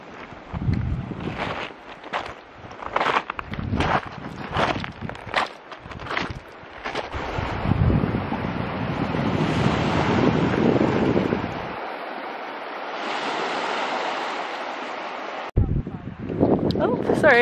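Surf washing onto a beach at Fishing Cove, Nova Scotia, a steady broadband rush building through the middle under wind buffeting the microphone, with people talking and footsteps early on.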